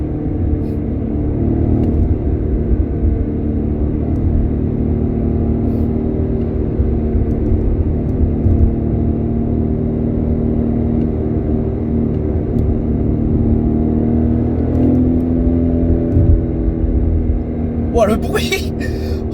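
A steady, loud truck engine drone and road rumble fills the whole stretch, with a brief sharper burst of noise near the end.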